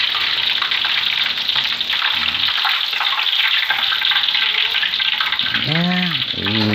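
Catfish fry in hot oil with a loud, steady, close sizzle and crackle that runs throughout, joined near the end by a few short clinking or scraping sounds.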